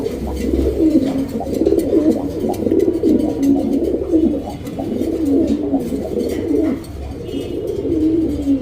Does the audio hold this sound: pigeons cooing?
yes